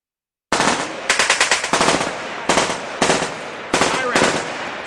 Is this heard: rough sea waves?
no